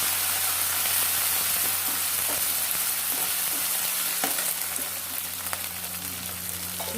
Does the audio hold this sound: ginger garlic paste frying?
yes